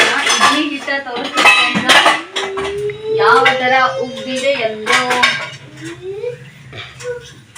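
Metal spoons clink and clatter as they are nested one inside another in a home kitchen, a busy run of bright rattles with a voice talking over the clinking.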